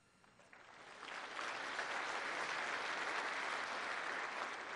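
A convention audience applauds Sarah Palin's keynote at the National Tea Party Convention, the clapping swelling quickly from scattered hands into a steady, dense ovation that sounds moderately distant in a large hall.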